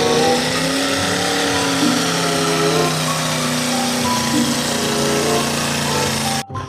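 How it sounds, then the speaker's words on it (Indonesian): A toy monster truck's engine revving sound effect plays loudly and continuously as a buzzing, droning motor tone, then cuts off abruptly near the end. "Di sini ada mobil monster."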